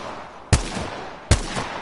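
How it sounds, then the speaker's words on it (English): At an Apex Legends firing range, two loud, sharp gunshots ring out about three-quarters of a second apart, each with a brief echoing tail over a low background hum. "just kind of shoot at the target as well too"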